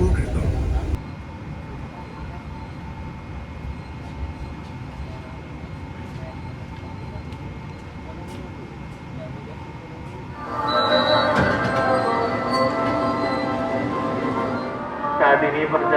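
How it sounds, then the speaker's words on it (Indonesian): A Jaka Tingkir passenger train rolls into Purwokerto station with a steady low rumble of wheels and carriage, swelling louder near the end as the train nears and slows, heard from on board. "Perjalanan kereta Jaka Tingkir tiba di stasiun Purwokerto"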